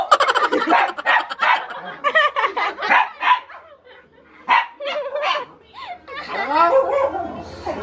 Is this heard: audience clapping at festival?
no